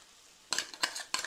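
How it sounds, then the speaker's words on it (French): Tuna and tomato coulis being spooned into a frying pan and stirred, three short, close scraping clinks of a utensil against the pan after a quiet moment, no talk. "Et on dispose tout ça directement dans la poêle."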